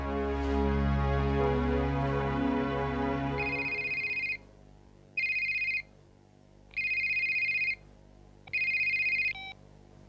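A telephone rings in four repeated electronic bursts with short gaps between them, loud and close, following a sustained musical passage, with no talk over it.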